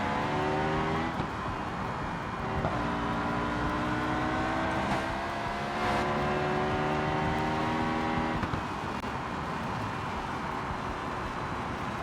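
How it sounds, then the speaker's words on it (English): Video game F1 race car engine revving loudly and continuously, with rising and falling pitch sweeps as it shifts through gears, filling the whole stretch with no talk. "I wasn't sure if I was, like, making you guys go deaf or not with my car noises."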